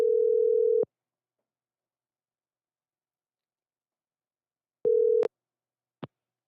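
A telephone line gives a steady tone after the handset is hung up: one long beep, a pause of silence, a shorter repeat of the tone, then a sharp click, all clean and close.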